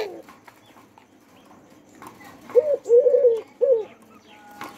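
A dove gives a short series of soft, mid-pitched coos, three or four rounded notes in a quick cluster, close by against a quiet background with faint faraway rustles.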